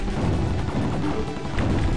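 A bomb explodes in the shoot-'em-up video game Tyrian 2000, a dense continuous rumbling crash with crackling debris that stays loud and sustained throughout.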